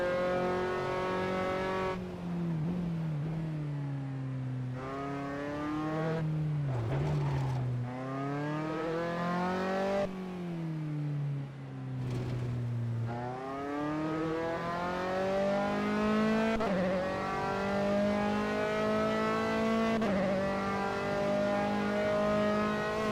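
Race car lapping the world's highest track in Assetto Corsa, a steady, loud engine note that climbs through the revs, drops sharply on each gear change and dips into braking for corners, with no voices over it.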